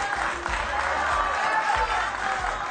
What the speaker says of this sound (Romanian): Puteți să-l aplaudați pentru